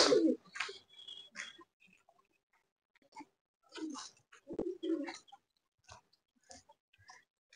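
Pigeons in a Giribaj pigeon loft in Garia, Kolkata, giving soft intermittent coos and low calls nearby, with quiet rustling and shuffling between them and brief gaps of near silence.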